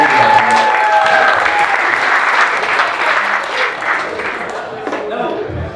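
Audience at a live comedy show applauding, a loud sustained wash of clapping from a full crowd that slowly thins toward the end, with some voices mixed in.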